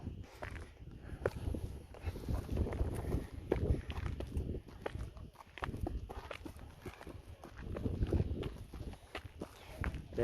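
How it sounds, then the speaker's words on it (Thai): Footsteps climbing uphill on a forest trail at a campsite in Mae Wong National Park, a steady run of crunching steps close by, carrying on for the whole stretch with some rustle and no talk. "เดินขึ้นไปอีก"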